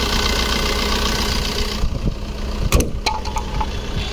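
A 2019 Maruti Baleno Zeta diesel engine idles steadily up close with a continuous low rumble, broken near the end by a few sharp clicks and knocks.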